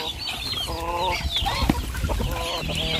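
Young chickens penned with ducks cluck and chatter continuously at close range over a busy farmyard background.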